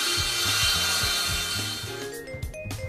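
A power saw rips a floor board lengthwise to width, a steady loud cutting drone with a rhythmic low pulsing that eases and thins toward the end, with no voices.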